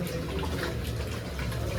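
Chicken pieces are washed by hand in salted water, with a continuous watery swish and running flow, close and steady, and no voices.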